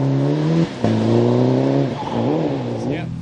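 Rally car on a stage at the 2014 Malcolm Wilson Rally, a BTRDA Rally Championship round, the car suffering overheating; a loud, close engine holds steady revs, dips briefly, then rises and falls through several throttle changes.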